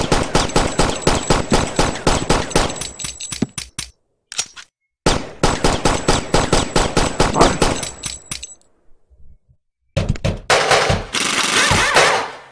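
Gunfire in the video game Boring Man: loud, rapid shot bursts in several runs separated by brief silences, with a dense, noisy burst near the end.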